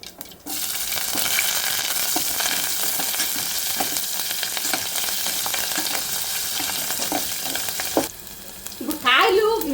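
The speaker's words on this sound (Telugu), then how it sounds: "ఇప్పుడు ఉల్లిపాయలు పచ్చిమిరకాయలు వేస్తున్నాను చూడండి కరివేపాకు" Onions, green chillies and curry leaves dropped into hot oil after mustard and cumin seeds, giving a sudden loud sizzle that holds steady for several seconds and is then briefly stirred, with a short faint voice near the end.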